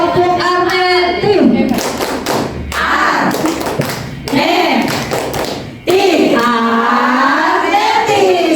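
A school group in Indonesia claps the Tepuk Arneti routine, bursts of rhythmic hand claps and thumps alternating with loud chanted and sung call-and-response voices, close and energetic.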